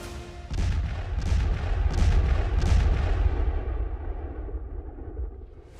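Kamikaze drone explosion in the US–Iran conflict: a deep booming blast with several rolling thuds, loud and reverberant, fading into a long tail.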